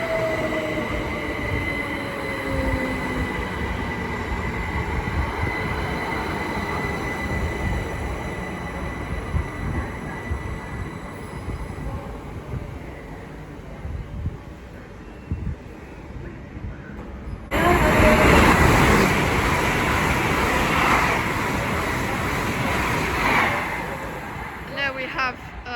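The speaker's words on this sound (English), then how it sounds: "Have a Great Western Railway IET off to somewhere." A Great Western Railway IET train runs through Slough station on the Great Western Main Line, giving a long, loud rumbling roar with wheel and rail noise that builds and stays close, with no talk over it.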